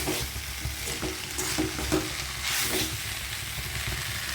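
Brinjal (eggplant) frying in oil gives a continuous, fairly loud sizzle, with intermittent stirring scrapes throughout and no voices.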